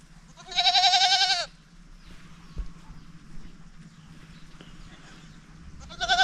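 Goats on a small farm bleat loudly and close by in one long harmonic cry near the start, with another bleat beginning at the end over faint rustling ground noise.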